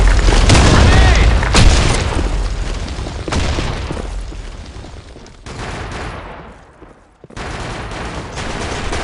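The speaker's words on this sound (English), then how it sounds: "Grenade in the hole!" Grenade blast in the online shooter BlackShot on the Sandstorm map, a heavy boom amid steady gunfire and machine-gun bursts, loud and close, fading briefly before more shots resume.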